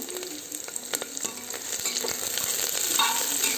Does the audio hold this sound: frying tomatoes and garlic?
yes